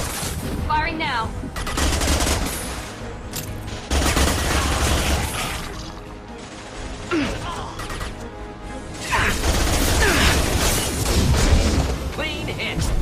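Loud gunfire in the sci-fi shooter Mass Effect 2 as a charging krogan is shot, heavy bursts mixed with crashing impacts and booms in a busy, chaotic battle.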